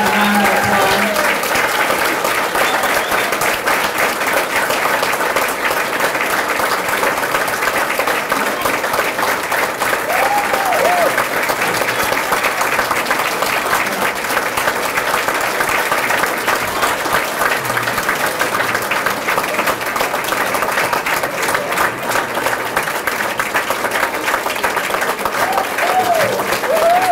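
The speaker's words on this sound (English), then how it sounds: "Give them a big round of applause." Sustained, dense applause fills a banquet room at a sheriff's office reentry breakfast as guests honour the culinary arts chefs, a steady wash of clapping that holds evenly for the whole stretch with faint voices underneath.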